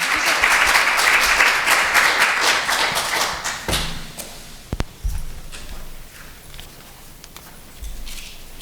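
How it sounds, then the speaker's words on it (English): Audience applause for student presenters at a children's health session, a lively round of clapping that dies out midway, followed by a few scattered thumps and quiet room noise. "one more applause"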